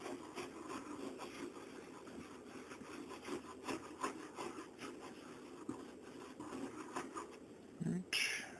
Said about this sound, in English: Wipe each of them down individually.